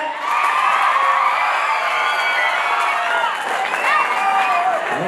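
A live crowd at a rural comedy show roars with loud, continuous cheering, shouts and whoops that fill the whole span.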